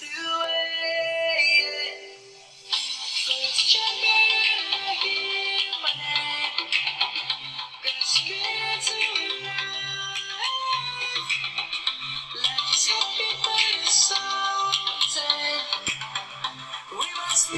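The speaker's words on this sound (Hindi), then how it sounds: "इट्स अ डुअल स्पीकर, तो आपको क्लियर आवाज़ सुनाई दे रहा होगा" Music plays through the dual speakers of a Realme Narzo 60 Pro 5G phone, with a bright tonal melody over a soft rhythmic beat, loud and continuous after a brief dip near the start.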